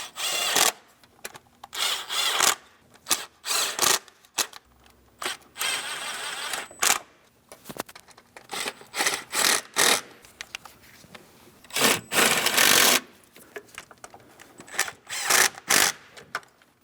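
Hand tool bottoming out spark plugs in a Ford Transit 250 3.7L V6 engine, a series of short close ratcheting and clicking bursts separated by brief pauses.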